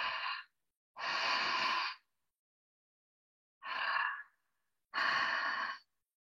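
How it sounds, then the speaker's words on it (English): Open-mouthed Ujjayi breaths, four audible rushes of air in two pairs, each about a second long, with quiet gaps between them. The sound is close and breathy and has no speech over it. "the Ujjayi breathing is really great, which is just you breathe with your mouth open"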